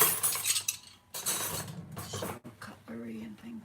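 Cutlery being handled while cleaning out a kitchen drawer at home on Christmas morning, with scattered metallic clinks and rattles close by, partly under quiet talk.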